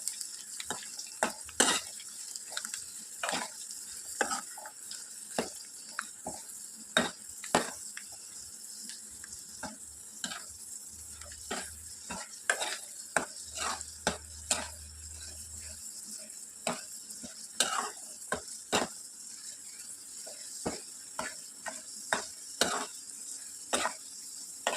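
Ingredients fry gently in a pan over a low flame, a soft sizzle running underneath as a spoon stirs and clicks against the metal in frequent irregular taps, fairly quiet and close.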